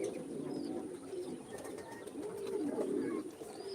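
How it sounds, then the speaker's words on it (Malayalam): Pigeons cooing nearby, low throaty rolling coos repeating steadily throughout, with a few faint high chirps over the top and no speech. "ഇത് നമ്മളെ ഇന്ത്യൻ പാൻഡയിലെ പ്രാവ്"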